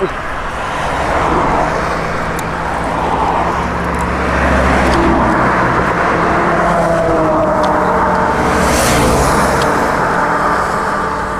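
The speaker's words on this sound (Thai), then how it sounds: "มีแต่เสียงรถ" Steady road traffic roars close by beside a rural rice-field cooking spot, with a continuous engine and tire rumble that swells as vehicles pass, loud throughout.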